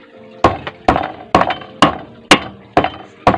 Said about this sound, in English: It's hammer time. Lump of iron, and we copper on both ends